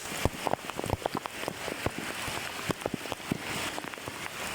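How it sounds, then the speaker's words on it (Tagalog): Heavy typhoon rain falls steadily, a dense patter of drops hitting surfaces with a constant hiss behind it, fairly quiet and with no talk. "Malakas pang ulan."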